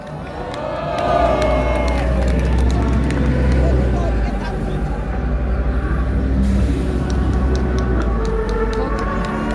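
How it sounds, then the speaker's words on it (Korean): A large outdoor rally crowd claps and cheers for a lawyer being introduced, a broad roar of hands and voices over a heavy low rumble of traffic or machinery, loud and continuous. "모두 박수를 한번 부탁드리겠습니다."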